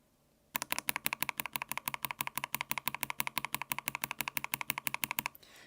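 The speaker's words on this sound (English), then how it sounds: "Can you guys hear the tick from that switch?" A mechanical keyboard switch on a custom-built board ticks through a quick, steady run of about thirty-five crisp, close keystrokes that stop abruptly near the end, with no talking.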